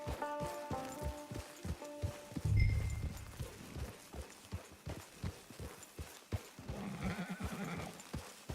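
A horse in the video game Red Dead Redemption 2, its hooves clip-clopping in a steady even walking rhythm throughout, with a loud neigh partway through and music fading out near the start.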